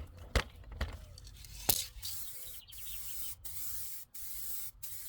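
Short hissing bursts from a clear coat spray can misting onto a car headlight during restoration, several separate sprays with brief gaps and faint handling rattles in between, close and fairly quiet.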